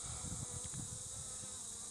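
Honeybees on a brood frame lifted from a hive make a close, low, continuous buzz, with individual bees droning in short overlapping pulses beneath a steady high hiss.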